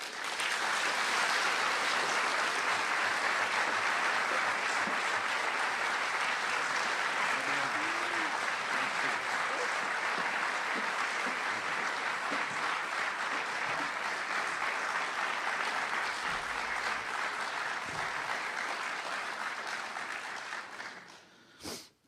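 A lecture audience applauds to welcome Christopher Hitchens in 2009. The clapping is loud and sustained, dense and steady for about twenty seconds, then fades out near the end.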